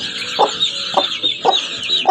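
A young Kuchin broody hen, not yet a year old, clucks beside twelve newly hatched chicks: four evenly spaced, close, low clucks over faint high peeping.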